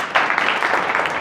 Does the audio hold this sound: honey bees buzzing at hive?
no